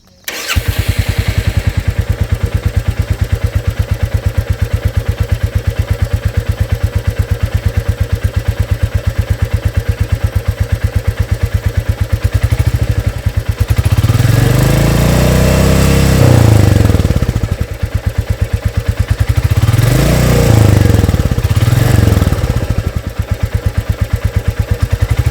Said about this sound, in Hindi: आप गौर से सुनिएगा जब गाड़ी स्टार्ट होती है और उसके बाद इंजन की साउंड और साइलेंसर की साउंड भी सुनिएगा